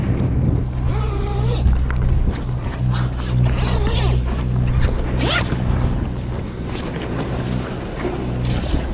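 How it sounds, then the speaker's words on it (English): A sail bag is unzipped aboard a cruising sailboat at Kalkan, with several close, rasping zipper pulls over steady wind and boat noise, plus a few faint knocks. "Unzip the sail bag."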